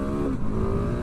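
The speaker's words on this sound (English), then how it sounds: "The quick shifter on there is fun." A KTM 690 SMC R single-cylinder supermoto motorcycle revs hard through a quick-shift, a brief loud, close engine roar with a quick pitch change, no talking.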